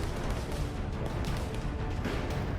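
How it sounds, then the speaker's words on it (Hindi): A street crowd sets off firecrackers near police, and several sharp bursts pop out of a dense, roaring wash of street noise. "पुलिस को देखकर भीड़ के ये लोग और ज्यादा पटाखे फोड़ रहे हैं"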